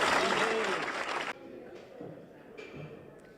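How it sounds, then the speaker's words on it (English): Cheering and applause from a crowd at a campaign field office on election day in a Florida governor's race, loud and dense at first, then cutting off abruptly and leaving quieter scattered room sounds. "So lots of cheering at a campaign field office."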